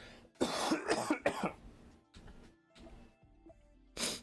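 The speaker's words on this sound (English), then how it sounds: "Excuse me while I cough." A person coughs in a series of harsh, close bursts, a rapid cluster at first and then a few separate coughs after short pauses, ending with one more loud cough.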